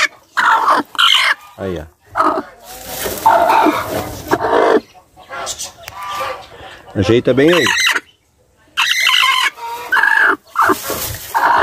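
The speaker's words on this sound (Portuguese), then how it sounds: "Uma senhora sedosa que tá chocando aqui, ó." A brooding silkie hen and other chickens cluck in short bursts close by, mixed with someone speaking Portuguese as he settles the hen in her nest.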